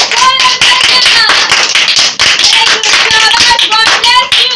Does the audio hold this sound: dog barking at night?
no